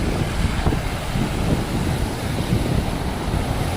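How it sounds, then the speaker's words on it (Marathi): A steady, dense roar of the Nira river rushing with discharge from Veer dam fills the whole stretch, loud and continuous, with a low rumbling undertone and no voices. "नदीमधून मोठ्या प्रमाणामध्ये पाण्याचा विसर्ग सुरू आहे"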